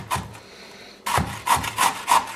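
Green papaya being shredded by hand, a series of five rasping strokes against the shredder, close and fairly loud with a short pause after the first stroke, no speech.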